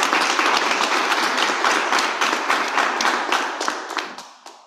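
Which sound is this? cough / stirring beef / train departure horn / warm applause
warm applause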